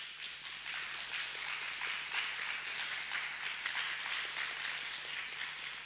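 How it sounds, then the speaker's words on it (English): Steady audience applause fills a members' meeting hall after a president-elect proposal at a linguistics society annual meeting, a dense continuous patter of many hands at even loudness for about six seconds with no talk over it. "And I take your applause as approval."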